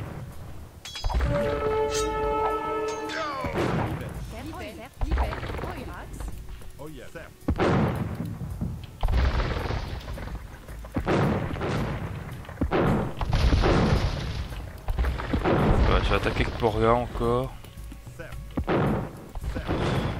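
A cannon galleon firing its cannons in Age of Empires II, repeated heavy booms at irregular intervals mixed with game effects and music, while someone talks over the battle.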